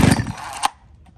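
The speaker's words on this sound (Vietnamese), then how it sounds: "Rồi giật test nổ cho anh em nghe qua này. Nghe thử cái tiếng máy nhá, nổ rất là khét luôn anh em." A Japanese chainsaw engine is pull-started, giving a loud, ragged burst of sputtering firing that fades after about half a second, ends with a sharp pop, then drops to near quiet.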